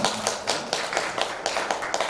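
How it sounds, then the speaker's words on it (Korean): A lecture audience claps in quick, even bursts, a steady rhythmic patter that is moderately close and fairly soft and lasts a couple of seconds. "박수 한번 쳐주시면."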